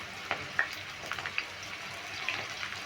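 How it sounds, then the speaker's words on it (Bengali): Potatoes fry in mustard oil in a kadai with a soft steady sizzle and a few faint pops, quiet and close, with no talking. "আলুগুলো প্রথমে আমি ভেজে নিচ্ছি"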